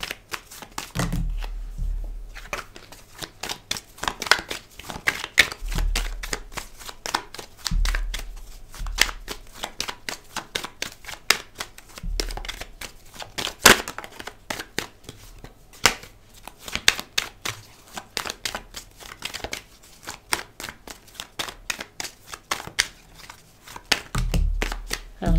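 Tarot cards shuffled by hand, a long run of quick riffling bursts and soft slaps as the deck is cut and squared, close and crisp, with occasional low thumps on the table and no talk.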